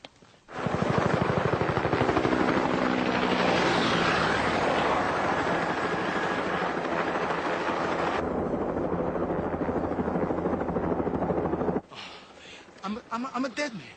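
Loud helicopter rotor thumping steadily overhead for several seconds with rapid chopping beats, then cutting off abruptly as a voice speaks.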